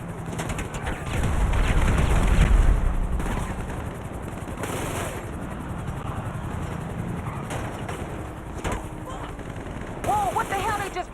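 Rapid gunfire barrage in the online video game GTA 5 Online, with dense, overlapping shots that swell loudest early on, then continue at a steady level over a busy mix of game sounds.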